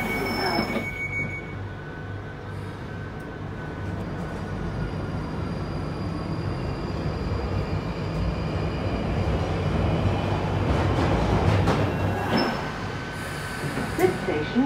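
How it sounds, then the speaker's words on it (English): A London Underground Northern Line train via Charing Cross runs between stations with a continuous loud rumble of wheels on track, rising slightly mid-way, with faint metallic squeals and clanks on top. "This is a Northern Line train via Charing Cross, terminating at Battersea Power."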